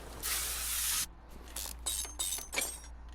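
Spray paint hisses onto a car part in Car Mechanic Simulator 2021, one long steady burst followed by several shorter, quick spritzes in a choppy rhythm, loud and close over a faint low hum.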